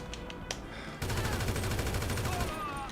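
Rapid automatic gunfire in GTA Online, a dense, loud burst of repeated shots running steadily for about two seconds after a few scattered sharper cracks.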